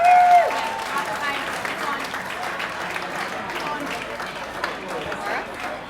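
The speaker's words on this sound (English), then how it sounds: "Give her a round of applause." Applause from an audience fills the room at an awards evening for a physique transformation contest, with whoops and cheering on top, while a voice talks over the sustained clapping.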